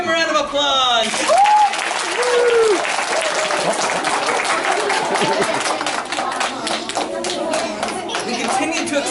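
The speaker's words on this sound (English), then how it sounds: "Give him a round of applause!" A lively audience breaks into loud, sustained applause and clapping during a storytelling-style history presentation, following a brief spoken line, with scattered chatter mixed into the steady clapping.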